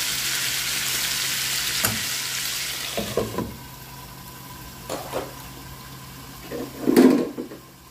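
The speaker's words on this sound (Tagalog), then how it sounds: "I-add natin ang ating onion at garlic." Onion and garlic hit hot oil in a frying pan and sizzle with a steady, close hiss, broken by a few soft clacks of stirring that grow louder near the end.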